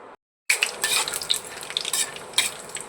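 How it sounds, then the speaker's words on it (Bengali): Homemade lentil dumplings (bori) fry in hot oil in a pan, a bright crackling sizzle bursting in right after a brief silence, with scattered pops and spatters, close and steady. "প্রথমে বড়িটা ভেজে নেব"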